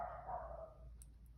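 Dogs upstairs in a house give a muffled, drawn-out whine or bark that fades, followed by a couple of faint ticks. The sound is distant and quiet, with no talking.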